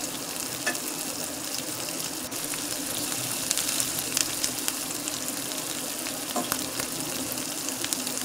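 Bread snacks deep-frying in hot oil, a dense, steady crackling sizzle close by with scattered pops and light clicks as pieces are turned, no voices.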